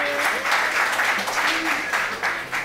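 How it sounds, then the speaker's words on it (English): Audience clapping on a dating show, a lively patter of hands heard together with voices and chatter, with cheerful reactions mixed in over the whole stretch. "Let's clap for D, ladies and gentlemen."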